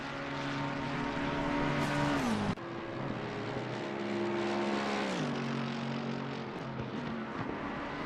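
Lexus race car engine in a racing sim game at Watkins Glen, a steady loud high-revving drone with a sharp gear shift and two more downshifts as the pitch drops, no talk over it.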